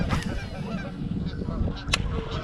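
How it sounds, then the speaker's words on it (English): Several geese honk and squabble nearby, with harsh repeated calls over a rough background murmur, loud and close. "Come on, geese. Shut up."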